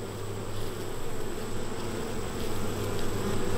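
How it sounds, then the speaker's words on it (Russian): Honey bees buzzing at an apiary hive, a dense continuous drone from many insects close by, steady and fairly loud. "Сейчас я пчел смахну."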